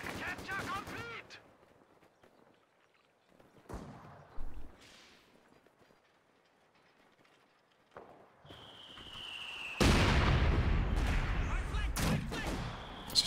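Mortar fire and explosions in a Company of Heroes 2 multiplayer match, starting with a few scattered thuds and distant impacts and building to a loud burst of blasts and gunfire near the end, with a commentator speaking early on.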